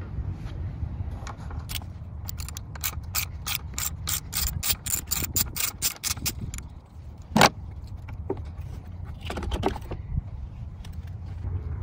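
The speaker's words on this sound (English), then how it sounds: "Start by disconnecting your negative battery cable." A ratchet loosens the negative battery cable nut on a GM Ecotec engine, giving a rapid run of crisp, close clicks, then a pause, a sharp clank and a few scattered clicks over a low hum.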